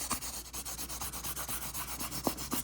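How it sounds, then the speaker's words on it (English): Fine high-grit sandpaper lightly sanding the red leather interior of an Infiniti Q50 between dye coats, a quiet close rasping in quick, even back-and-forth strokes, with no voices. "just sand it slightly"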